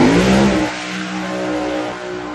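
Race car with a turbo billet HEMI engine revving hard on a racetrack, a loud close-up vroom that settles into a steady drone, heard alone.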